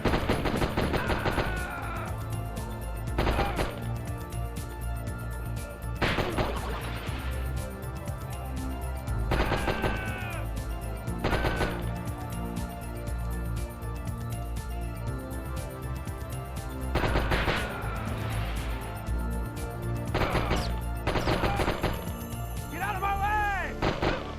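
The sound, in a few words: gunfire shooting at Christmas tree in Die Hard Trilogy video game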